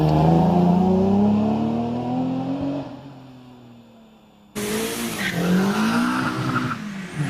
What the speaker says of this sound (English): Away then goes the Caterham